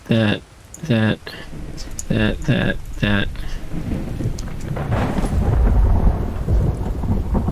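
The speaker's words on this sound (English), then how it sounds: "Alright, it's raining." Steady rain with low rumbling thunder in the survival crafting game The Infected, a continuous storm that swells toward the end, with a few short spoken words near the start.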